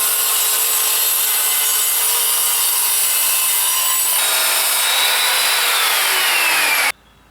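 Power saw cutting reclaimed plywood for an outdoor drinks table base, a loud, continuous close-up buzzing cut lasting about seven seconds, with the pitch shifting midway before it cuts off suddenly, with no talk.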